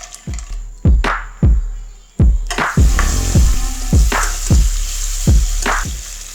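Nuts frying in ghee in a pan, a steady crackling sizzle broken by repeated low thumps and knocks, likely from stirring, close and fairly loud with no talking.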